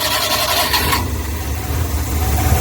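A Multicab mini truck engine with a misfiring, vibrating cylinder starts up, and a burst of cranking gives way to a loud, steady, rough idle with a low rumble.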